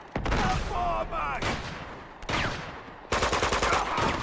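Game combat from Uncharted 2, with bursts of gunfire and a heavy blast marking a grenade, broken by short gaps, sounding loud and close, while voices speak over parts of it.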